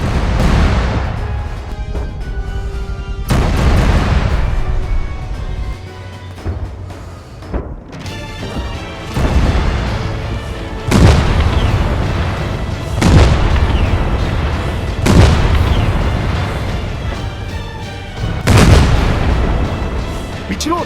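Repeated heavy booms of artillery fire and explosions, loud and close, several blasts in irregular succession with rumbling tails between them.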